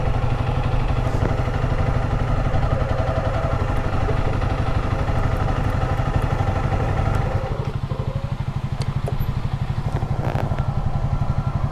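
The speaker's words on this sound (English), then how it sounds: "Turn your bike off." A Honda CRF300 motorcycle engine runs steadily at a loud, close, rumbling idle with a slight drop in level partway through and a few clattering knocks on top; no talking.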